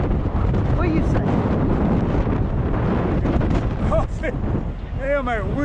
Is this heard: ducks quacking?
no